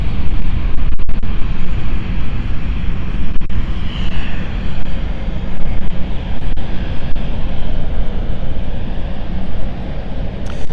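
A KLM Embraer 190 jet taking off from London City Airport for Amsterdam, its engines roaring loud and steady with a broad rushing noise throughout, no talk.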